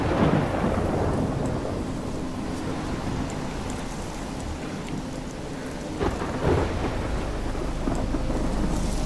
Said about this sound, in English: I'll fall asleep out in the storm.